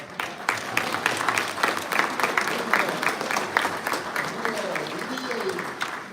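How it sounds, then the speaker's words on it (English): A crowd at a National Urban League affiliates address claps for a woman, a dense, steady wash of applause from many people that holds evenly throughout, with speech faintly mixed in. "give this lady a round of applause"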